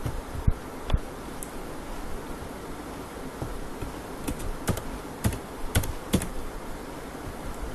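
Typing on a computer keyboard: scattered light clicks, a few isolated taps and then a quicker burst of keystrokes, fairly faint over a quiet room hum.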